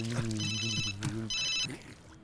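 A telephone rings with two bursts of electronic ringing, close and clear, partly over a sustained low musical drone and a brief voice.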